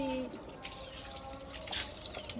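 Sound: water running while washing dishes

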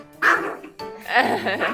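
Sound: small short-legged dog barking

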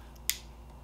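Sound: click of electronic ear muffs dial switching on and off

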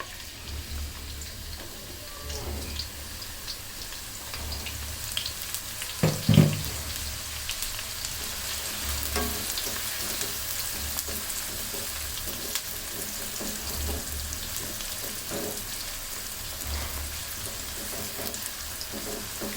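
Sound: onions frying in hot oil

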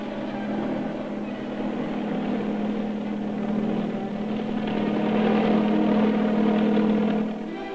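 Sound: helicopter taking off

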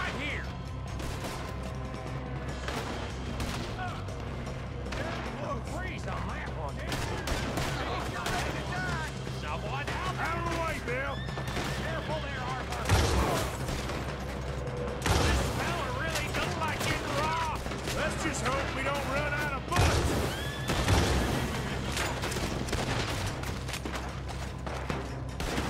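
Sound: gunfire in the video game Red Dead Redemption 2

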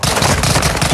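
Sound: gunshot in a video game

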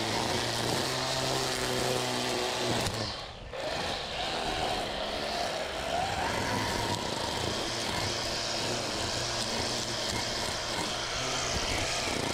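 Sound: string trimmer running below full power

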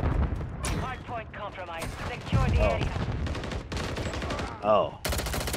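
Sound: gunfire in a video game

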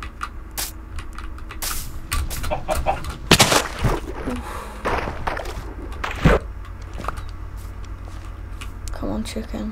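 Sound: chicken clucking in the video game Minecraft

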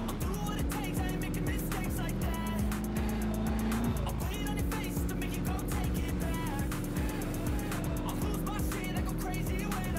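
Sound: truck driving on a road in the video game Scum

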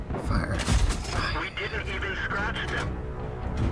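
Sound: tank cannon firing in a video game via GeForce Now

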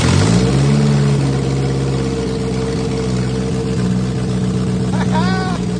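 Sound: Toyota Corolla 4AF engine with Weber carburetor starting, running

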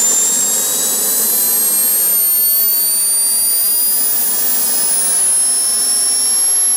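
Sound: jet engine of a fixed-wing kamikaze drone

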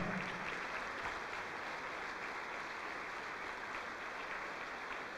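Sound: church congregation applauding

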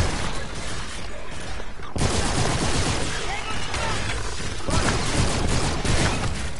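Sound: machine gun fire in the video game Call of Duty: Infinite Warfare

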